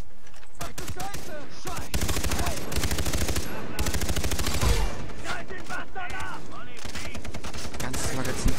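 In the video game Far Cry 3, an automatic weapon empties a full magazine in rapid, sustained bursts of gunfire. The shots crack continuously for several seconds, close and loud, with voices faintly mixed in.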